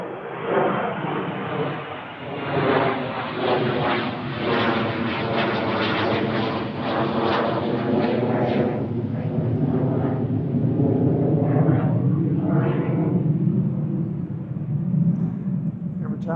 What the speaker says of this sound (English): Every time I talk, a plane goes by.